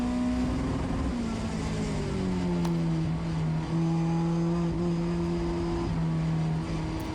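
Mazda MX-5 Cup race car engine holding a steady, loud drone at speed on track, with pitch dipping and rising through gear changes and a faint tick or two, no talk over it.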